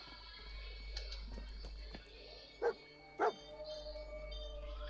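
Faint short dog barks from Dogmeat in the Fallout 4 video game, two brief yaps close together mid-scene over a low hum and quiet game ambience, no talking.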